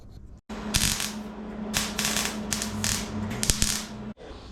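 Tack welding a quarter patch panel onto a 1957 Chevy: several crackling, sizzling bursts of the welder, each lasting under a second with short gaps, over a steady electrical hum, close and fairly loud.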